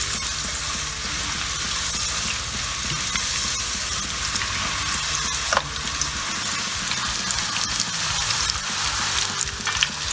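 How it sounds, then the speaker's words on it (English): Meatballs sizzle and crackle steadily in hot oil, a loud continuous frying hiss with occasional pops, close up and without talk. "Let's start frying them."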